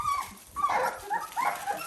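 Seventeen-day-old Dalmatian puppies whimpering close by in a run of short, high, wavering whines, a few overlapping, with brief pauses between cries.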